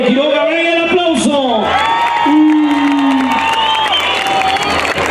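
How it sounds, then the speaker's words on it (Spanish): Audience at a dance contest erupts in loud cheering, whoops and shouts mixed with applause, a dense crowd roar that stays strong throughout while a voice carries over it. "venga el aplauso"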